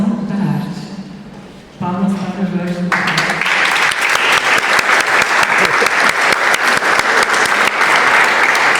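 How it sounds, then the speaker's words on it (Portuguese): Audience applause for a speaker at a talk about an art exhibition: a voice speaks briefly, then dense clapping builds and continues steadily and loudly to the end. "Palmas para Jorge Colli."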